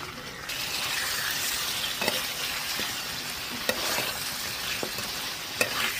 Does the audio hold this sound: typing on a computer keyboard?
no